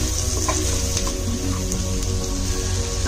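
Onions and tomatoes with a pinch of salt sizzle in a pan while being stirred, a steady crackling fry with faint scraping of the spoon, close and continuous.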